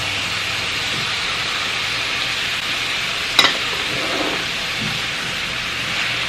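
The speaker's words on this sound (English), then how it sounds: "Now we can add our broccoli." Broccoli going into a hot pan while making creamy chicken pesto pasta with mushrooms, giving a steady loud sizzle throughout with a brief clatter partway as the florets land, and no talking.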